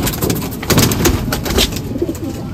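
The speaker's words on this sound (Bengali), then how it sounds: "এসব পায়রা উঠছে, এই পায়রা উঠছে নরখাজা থেকেও" Andha pigeons, a high-flying breed, cooing close by in a short run of soft, throaty coos, with faint bird noise around them and no talk.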